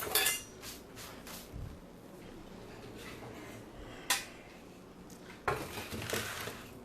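Glass bowl being moved over to a stainless steel pan, producing a few scattered clinks and knocks, faint and close, separated by quiet pauses.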